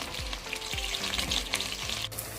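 Green chillies and onions sizzle steadily in hot oil, with a spoon stirring and scraping the pan at a regular pace; close and fairly loud, no talking.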